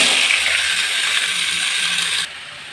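Potatoes are slipped one by one into a little hot oil, producing a bright, steady close hiss of frying that cuts off abruptly near the end.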